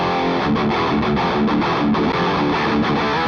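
A drop-tuned electric guitar played through a distorted amplifier at a guitar store session rings out loud and thick, with chugging, repeated palm-muted chords and sustained crunchy tones, alone without talk.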